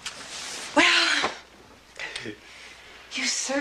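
A single sharp sneeze bursts out close by, with a voice speaking briefly before and after it.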